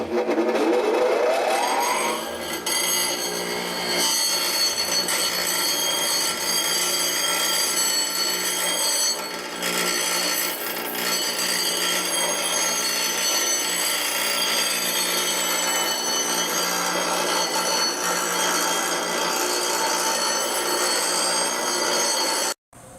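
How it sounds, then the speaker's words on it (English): Grinding a keyway into an electric scooter motor shaft, a steady, loud, continuous metallic whine that runs without break for about twenty seconds before cutting off. "Now for a little bit of grinding."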